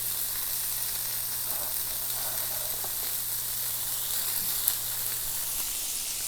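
Onions sweating in butter in a pan over low heat give a soft, steady sizzle and hiss, faint and even throughout with no talking.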